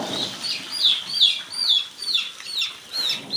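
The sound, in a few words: chicks in a brooding house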